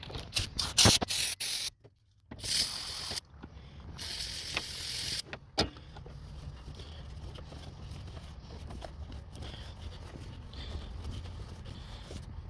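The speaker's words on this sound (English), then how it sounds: "You can also use this brake cleaner" Brake and parts cleaner sprayed from a can onto car air tubes and a throttle body: several loud, close hissing bursts with short breaks, followed by a softer, steadier hiss.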